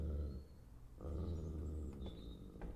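Ugly dog growling in the video game Lorelai, a low rumbling growl in two stretches with faint higher game tones, loud and close, no talk.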